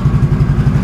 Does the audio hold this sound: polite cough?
no